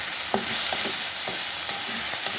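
Radish greens with turmeric are stirred in a pan, a spatula scraping in a few soft strokes over a constant bright sizzle of frying, close and fairly loud.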